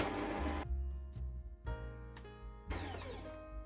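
An electric hand mixer whizzes pandan paste into buttercream in a bowl, loud bursts of motor whine cut by short pauses and a restart, with no voices.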